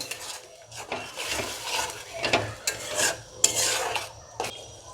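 Paneer mixture stir-fried in a pan with a little water, giving irregular scraping and clinking of a spatula against metal over a soft sizzle, with sharp taps between the strokes and no voices.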